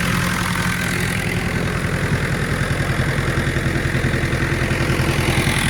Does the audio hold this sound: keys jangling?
no